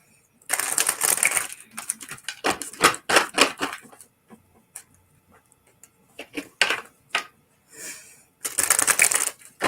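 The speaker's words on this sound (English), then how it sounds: "I'm shuffling a lot today. These cards are really stiff." A stiff deck of tarot cards is shuffled in bursts of crisp riffling and clattering flutters. Short quiet pauses separate the bursts, and the sound is close and fairly loud, with no voices.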